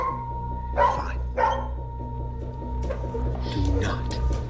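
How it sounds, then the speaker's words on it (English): A dog barks a few times in short, sharp bursts, fairly close, mixed with people talking in an indoor scene over a steady low hum. "if he keeps barking, well, the neighbors are gonna call the cops"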